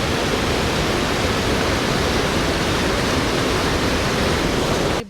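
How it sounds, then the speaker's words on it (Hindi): Water rushes through the channel of a water-powered mill (pan chakki) in a village in the Siran Valley, Mansehra, giving a loud, steady, dense roar with no talk over it. "इधर से पानी इस चक्कियों में जा रहा है और फिर ये चक्की घूमती है"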